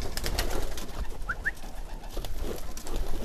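Breeding pigeons coo softly at close range in a few low, throaty calls over a busy background rustle, with no talk.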